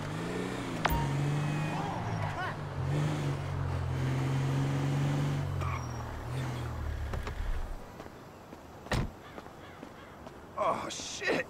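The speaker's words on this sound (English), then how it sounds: "That's the garbage truck." A garbage truck's engine in GTA V drones low and steady, near and fairly loud, for several seconds before cutting away, while a voice talks over it and a few sharp knocks follow.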